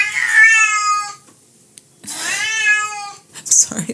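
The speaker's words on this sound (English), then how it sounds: "I'm sorry, that's my old kitty." An older pet cat meows twice in a row, each call a loud, close, drawn-out wail, with a short quiet gap between them and a brief rustle at the end.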